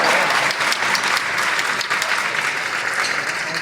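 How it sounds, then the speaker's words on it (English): Loud, even applause from banquet guests at a Toronto Taiwanese and Hong Kong community Lantern Festival dinner, continuous clapping throughout. "please give Alicia a big round of applause"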